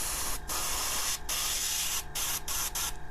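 Airbrush or spray can hissing paint onto a Predator model figure, a steady close spray broken by several short pauses between bursts.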